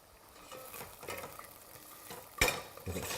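Onions frying in a pan get stirred, with soft sizzling and scraping of a utensil, faint and close, and one sharper clatter partway through.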